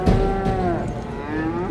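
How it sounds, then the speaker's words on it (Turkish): Cattle packed into a two-deck livestock transport truck at a cattle market, with long, loud moos sustained throughout, one low bellow trailing into another over steady background noise. "canlı hayvan nakil aracı iki kat komple inek dolmuş"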